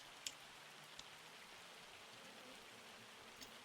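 Steady, faint rain hiss in Farming Simulator 25, a soft continuous wash of falling drops with a couple of brief taps, no voices.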